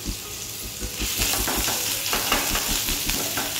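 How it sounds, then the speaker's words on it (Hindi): Grated ginger dropped into hot oil already holding cumin seeds sizzles and crackles brightly, with scraping stirs of a spoon in a kadai pan, close and continuous for a few seconds. "अब मैं इसमें ग्रेटेड किया हुआ जो अदरक है, मैं उस अदरक को इसमें दे देती हूँ।"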